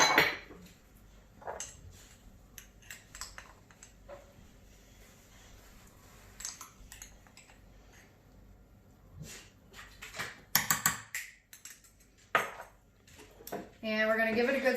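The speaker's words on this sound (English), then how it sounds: "we'll stir it up really good, just to make sure there's no clumping" A spoon stirring spaghetti sauce with added salt and sugar in a pot gives intermittent scraping clinks and taps against the metal, moderately close, with quiet stretches between bursts.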